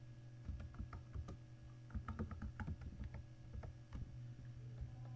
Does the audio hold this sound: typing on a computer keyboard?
yes